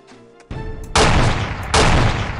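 Gunfire in the video game The Operative: No One Lives Forever: two heavy, loud shots close together, each a sharp blast with a sustained rumbling tail.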